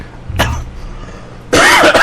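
A man coughs once, a short rough burst close to the microphone, followed by a louder harsh coughing fit that runs to the end.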